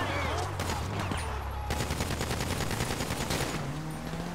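Rapid bursts of gunfire ring out during a heist in Grand Theft Auto V, with repeated automatic shots over a low engine-like rumble, loud and close, with voices talking briefly over the shooting.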